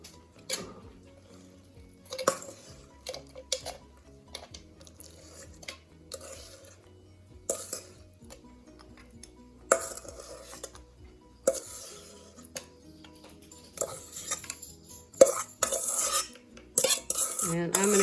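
Chocolate cherry monkey bread dough goes into a Bundt pan with intermittent clinks and scrapes of utensils against the pan, with quiet gaps between the clusters of kitchen sounds and no talking.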